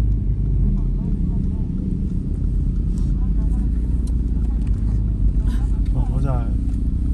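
A Porsche 911 GT3 sports car drives along a street in Medellín, its steady engine rumble continuous and fairly loud, with voices talking over it throughout.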